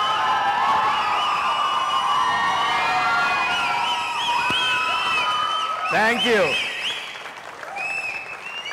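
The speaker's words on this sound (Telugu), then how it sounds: "ఈ చప్పట్లు ఈ ఈలల కోసమే మేము ప్రతిరోజు కష్టపడేది" A studio audience at a celebrity TV show claps in loud sustained applause with shrill whistles rising above it, and a voice briefly speaks near the end as the clapping eases.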